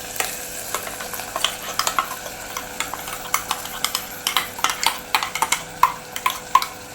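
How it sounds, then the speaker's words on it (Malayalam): Ground coconut paste stirred into wilted drumstick leaves in a pan for a Kerala-style curry, with steady scraping of a spoon against metal and a soft sizzle, close up and with no talk. "ഇനി നമുക്ക് അരച്ച് വെച്ചേക്കുന്നത് നമ്മുടെ അരപ്പ് ഒഴിച്ച് കൊടുക്കാം"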